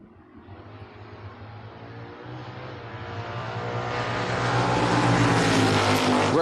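A convertible Mustang race car at a drag race builds from a low rumble to a loud, steadily rising engine roar as it accelerates and approaches, with no other sounds standing out.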